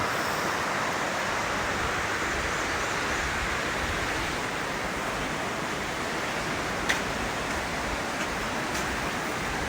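The Housatonic River in Connecticut flows fast past boulders, making a loud, dense, unbroken rush of water that stays steady the whole time, with no voices.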